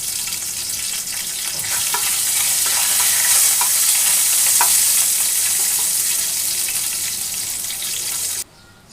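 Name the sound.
bay leaf, cumin and dried chili sizzling in hot oil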